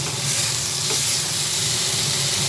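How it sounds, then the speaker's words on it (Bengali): Potatoes fry with spices in a pan over a low gas flame, giving a steady, close, continuous sizzle with no voices. "গ্যাসের চেষ্টা একদম কমিয়ে দিয়ে ভালোভাবে আলুর সঙ্গে মশলাগুলো ভেজে নিচ্ছি"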